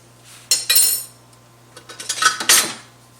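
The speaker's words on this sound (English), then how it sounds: "I'm going to skim off all of this foam" A utensil skims foam off chicken boiling in a pot, giving two close bursts of metallic scraping and clinking against the pot with a quiet pause between them.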